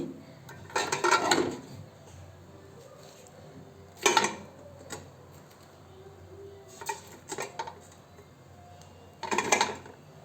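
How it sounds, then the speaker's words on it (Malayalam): Metal idli-cooker steaming plates clatter as they are set into the cooker, several separate close clanks and rattles spread apart by quiet pauses. "ഇഡ്ഡലി കുക്കർ എടുത്തിട്ട് അതിൽ ഇതേമാതിരി വെള്ളം ആക്കിയിട്ട് തട്ട് വെച്ചിട്ട് അതിലേക്ക് ഇറക്കി വെച്ചാൽ മതി."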